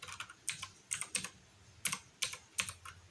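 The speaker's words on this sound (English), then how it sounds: "Let's just type in HexChat." Computer keyboard keys typed in short irregular bursts of clicks, close and fairly quiet, with no talking.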